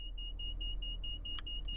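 A train's driver safety device beeps in a video game, a steady electronic tone repeating in a quick, regular rhythm over a low rumbling hum from a Class 170 train, with one brighter click partway through.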